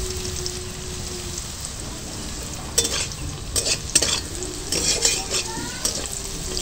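Vegetables fry in a pan for white sauce pasta, giving a steady crackling sizzle like rain, while a utensil scrapes and clinks against the pan in bursts during the second half.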